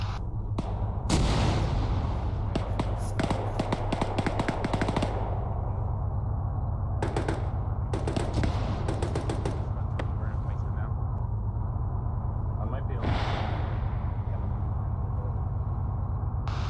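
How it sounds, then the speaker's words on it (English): Mortar rounds landing around a compound in the military shooter Arma 3, a run of heavy booming impacts and crackling gunfire, loud and close at first, then sporadic blasts, with talk over the din. "Mortars landing in the where the IFB compound was."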